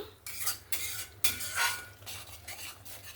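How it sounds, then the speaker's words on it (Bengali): Cashew and poppy seed paste stir-fried in a pan, a utensil scraping and stirring in several close, uneven bursts with a light sizzle underneath. "এবার আমি বেটে রাখা কাজু আর পোস্ত সেই বাটাটা দিয়ে দেব, দিয়ে আবারও ভালো করে কষিয়ে নেব"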